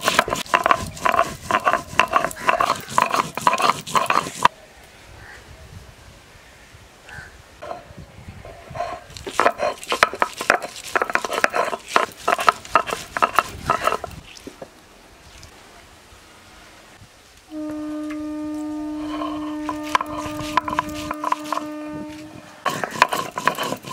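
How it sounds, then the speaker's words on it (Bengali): Cumin and chili are ground together by hand in rhythmic bursts of gritty scraping strokes, broken by short pauses, while a steady tonal hum sounds in the background for a while. "জিরে আর মরিচটা আমি একসঙ্গে বেটে নিচ্ছি।"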